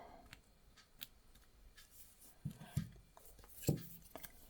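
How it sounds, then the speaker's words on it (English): Scissors snip off old blackened Venus fly trap leaves while baby plants are repotted, giving a few faint, crisp cuts spread apart, with the clearest snips near the end against a quiet background. "So you can just snip these off."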